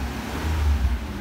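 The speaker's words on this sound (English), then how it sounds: "the worst sounding V12 engine in the world" V12 car engine with almost no exhaust sound, a low steady rumble that swells slightly in a brief moment of driving, with no voices.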